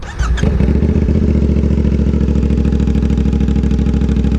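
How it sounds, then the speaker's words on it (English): A loud straight-piped CF Moto 450SS motorcycle engine idles close by with a raw, rapid, steady exhaust pulse after a brief rev at the start. "just it being straight piped, to me, it sounds good as shit."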